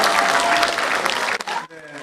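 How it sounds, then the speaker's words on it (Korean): An audience at a book-launch celebration applauds loudly to welcome a speaker to the stage, a dense, close wash of clapping that cuts off abruptly near the end. "큰 박수로 환영해 주시면 대단히 좋겠습니다"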